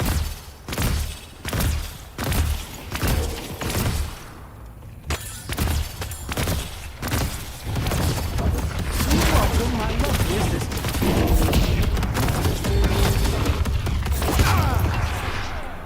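Gunfire in the video game Deadlock, loud rhythmic bursts of shots repeating about once a second, then a sustained heavy barrage of blasts and crashes that carries on to the end, with a voice speaking during the shooting.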